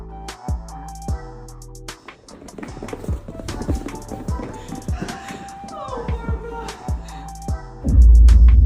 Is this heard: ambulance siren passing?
no